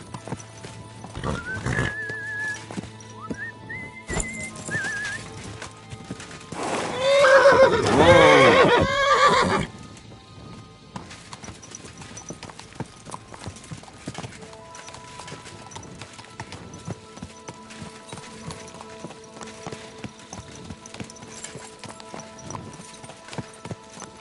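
A horse in Kingdom Come Deliverance II gives a loud whinny midway, with rhythmic clip-clop of hooves on the ground before and after it and faint background ambience.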